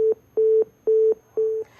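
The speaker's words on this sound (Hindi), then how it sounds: "महमूद आलम का शायद फोन कट गया है।" A telephone busy tone after a call drops during a televised news discussion: four evenly spaced, steady mid-pitched beeps alternate with short silences, clear and close with no voices.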